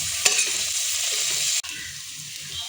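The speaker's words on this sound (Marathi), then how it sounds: "कांदा कढीपत्ता मस्त भाजून घ्यायचा" Onion and curry leaves sizzle steadily in a hot pan, with a broad hiss and a couple of sharp stirring scrapes, close and without talk.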